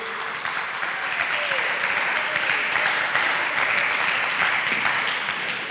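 Church audience clapping loudly and steadily throughout, a dense wash of applause with some voices mixed in.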